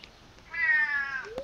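A cat meows once in the farming video game Stardew Valley, a clear drawn-out tonal cry standing alone over a quiet game background, with a short chirp right after.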